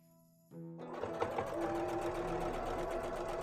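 A sewing machine starts up after a moment of quiet and runs a steady, whirring back stitch across a plush toy seam, humming and rattling close by with no talk.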